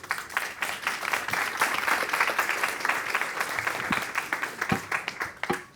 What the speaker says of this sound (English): just another, huge round of applause for all the immense progress and government reforms undertaking in Mozambique currently.